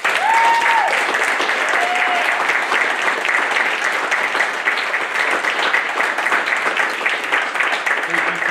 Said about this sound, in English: Families and friends, please join me in a round of applause for the Navy's newest third-class petty officer.